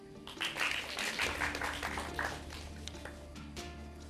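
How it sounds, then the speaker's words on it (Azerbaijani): Applause from an audience at a quiz show, a dense burst of many hands clapping that fades out over a few seconds, fairly quiet, with faint background noise and no clear talk. "Alqışlar."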